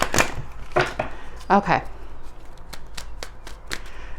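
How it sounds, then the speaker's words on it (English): Tarot cards being shuffled by hand, a run of short papery riffles and taps spread through the clip, with brief speech partway through. "let me just shuffle this, because when that pulled that 2 cards, it flipped other cards"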